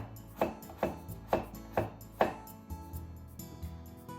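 A knife slices food into thin diagonal slices on a cutting board in an evenly spaced series of about five crisp, close chops, followed by softer scraping and board contact.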